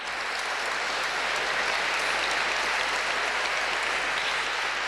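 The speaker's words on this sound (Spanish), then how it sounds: "¡Fuerte aplauso para España!" Sustained, dense applause from a large audience cheering for Spain at a religious gathering, steady and loud throughout with no voices breaking through.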